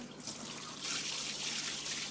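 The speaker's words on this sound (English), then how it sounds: "This container holds approximately 40 litres, so we're going to just pour it straight in." Water is poured from a roughly 40-litre container straight into an aquarium tank holding pre-washed sand, making a steady, rushing splash that swells slightly partway through.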